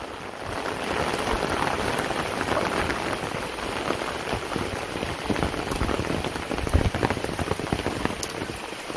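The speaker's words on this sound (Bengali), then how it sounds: "বৃষ্টি নামছে এখন চলা বানানি শেষ দিয়ে বৃষ্টি নেমে গেছে" Rain falls steadily and fairly loudly outdoors in a dense continuous patter on surfaces with no voices.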